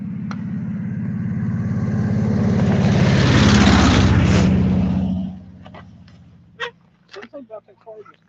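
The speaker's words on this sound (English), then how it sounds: "Something about that car just did not sound too good." A car with a rough-sounding engine approaches and passes close by, its rumbling roar swelling to a peak and then dropping away, followed by a few short bursts of people chatting nearby.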